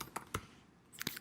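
A computer keyboard being typed on to enter a search, with a few quick, sharp key clicks in two short bursts separated by a brief pause, close and fairly quiet, with no talking.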